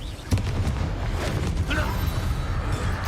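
A Confringo explosive spell cast in the video game Hogwarts Legacy gives a sharp, loud blast near the start, then a rumbling low boom fades under continuing combat noise and voices.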